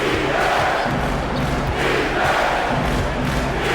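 An arena crowd in the NBA 2K25 basketball game roars and cheers after a dunk, a dense, loud, continuous wall of crowd noise with rising swells throughout.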